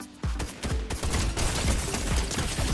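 A shotgun fires in the Fortnite video game, a rapid string of loud booming shots landing about every quarter to half second over a dense, noisy game background.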